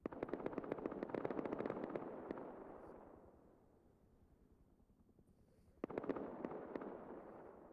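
Rotor chop from a helicopter in the survival game Rust during a 3v3 base-raiding tournament, loud at first, fading away for a few seconds, then surging back in close.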